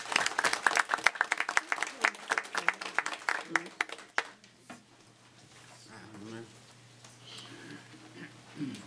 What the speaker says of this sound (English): We would offer these employees a round of applause in thanks for their service to the county.